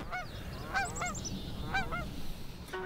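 Geese honk in short repeated bursts, a few calls at a time, over a steady low rumble outdoors.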